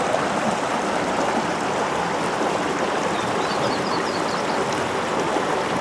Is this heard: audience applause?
no